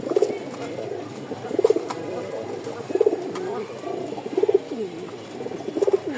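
A pair of Rajgolla pigeons coo close by in repeated throaty bursts, roughly one every second and a half, with a faint hum beneath.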